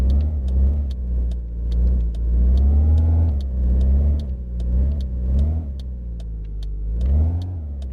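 A car engine that is down on power runs and revs repeatedly in a garage, its loud mid-pitched drone rising and falling in several throttle blips with no talk over it.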